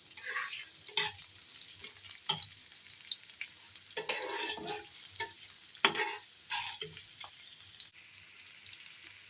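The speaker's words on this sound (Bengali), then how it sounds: "পেঁয়াজটাকে একটু ভাজা ভাজা করে নেব।" Chopped onion, garlic and ginger paste frying in hot oil, a faint crackling sizzle broken up by irregular scraping bursts of stirring, close by and with no voices.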